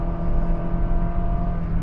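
A 2022 Honda Civic or City engine held at steady high revs while the driver uses the paddle shifter, a loud, continuous, droning hum from inside the cabin with no voices.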